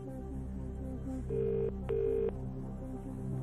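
A telephone call goes out during a Russian-dubbed broadcast of the UK quiz show Who Wants To Be A Millionaire, with two clear ringback tones sounding over a quiet musical bed.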